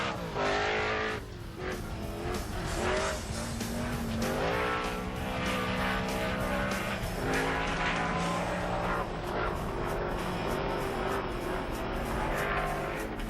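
A Toyota Hilux races up the Race to the Sky hill climb track in 2001, its engine loud and close. The engine pitch climbs and drops through gear changes, with a hint of tyre squeal as it powers uphill.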